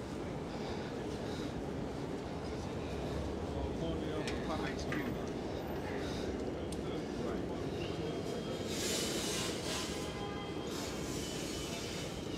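A New York City subway train on the yellow line rumbles below a Manhattan street, a constant low roar under outdoor street noise and wind, with a brighter surge near the end.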